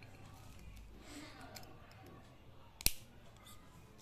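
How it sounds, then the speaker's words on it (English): A Jinhao fountain pen's snap cap pressed shut gives one sharp, distinct click partway through, standing out against a quiet, low room background. "Snap cap, second pen."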